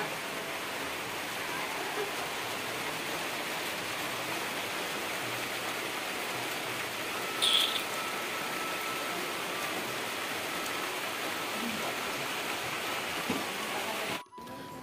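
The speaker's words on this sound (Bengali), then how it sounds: "অবশেষে একটু বৃষ্টি পড়া শুরু হলো, জানি না কতক্ষণ থাকবে, কিন্তু বৃষ্টি আমাদের প্রচুর দরকার।" Rain falls over a windy Bengali village as a soft, continuous broadband hiss, fairly faint and steady, with no voices.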